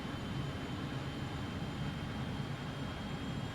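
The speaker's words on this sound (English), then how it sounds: "You can just hear the auto throttles working away, spooling the engines up, just keeping us on profile." Jet engines of a Just Flight RJ airliner in Microsoft Flight Simulator spool up under autothrottle during descent toward landing, giving a steady, even low rumble and whine that holds throughout without any talk.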